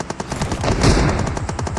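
Rapid automatic gunfire in PUBG Mobile, a dense, loud burst of rattling shots fired continuously for under two seconds with no speech.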